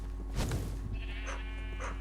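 Sheep bleating in the video game Minecraft, several short bleats over a steady background hum, with a pair of calls around the middle and more toward the end.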